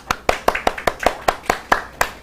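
At a special lecture for Chinese students at a Seoul global center, the audience claps in unison, about ten crisp, evenly spaced claps at a brisk steady beat, close and clear.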